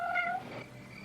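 A cat gives a short, clear meow up close, a single rising-and-falling cry that fades into quiet room tone after about half a second.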